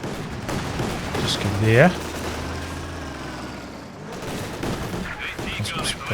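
Company of Heroes 3 style battle with SVT rifle conscripts and ZiS field guns firing, a steady wash of gunshots and booming artillery throughout, with a voice speaking briefly over the din.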